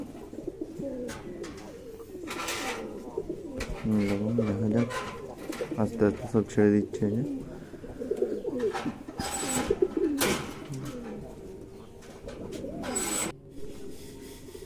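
Pigeons from a home loft, including satin birds, coo in a garden as they are let out into the sun. The soft cooing sits in the background beneath near, steady talking.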